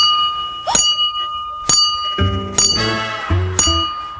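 A handbell rings out to call sheep to their special grain feed, giving several clear metallic strikes spaced irregularly, some overlapping with low bleating from the flock nearby.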